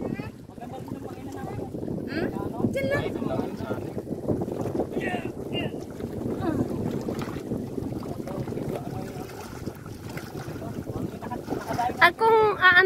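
A small boat setting out to sea on a trip to an island, with steady wind rushing across the microphone and water noise throughout while several people talk close by.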